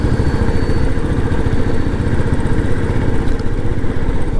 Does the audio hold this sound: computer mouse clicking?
no